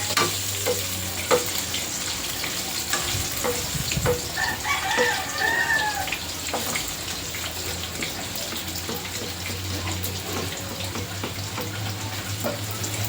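Garlic, onion and ginger fry in a pan with a steady, close sizzle that lasts throughout, while a rooster crows once or twice in the background.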